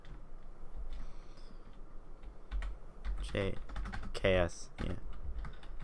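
Bursts of quick typing on a computer keyboard, close and fairly quiet, with short pauses between flurries and a voice speaking briefly in between.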